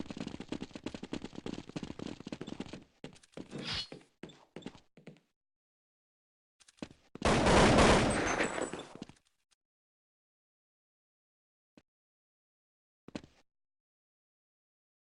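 Rapid USP pistol shots in Counter-Strike on the de_inferno map at a DreamHack 2011 match, a dense run of sharp cracks early on, then a loud sustained burst, followed by a few isolated faint pops amid quiet.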